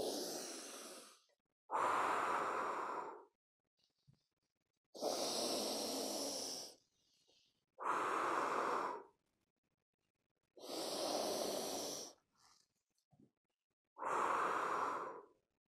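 Six forceful exhales in a yoga breathing exercise, each a loud breathy whoosh lasting about a second, evenly spaced with short silent pauses between them, close to the microphone and without speech.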